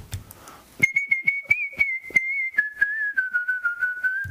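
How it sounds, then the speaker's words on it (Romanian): A person whistles the Romanian folk tune Doina Ciobanului, a clear, sustained melodic line with gentle pitch bends and ornaments, loud and close, preceded by a brief murmur of voices. "Doina Ciobanului, pe care, dacă tot e să o dedicăm așa, am să o fluier eu"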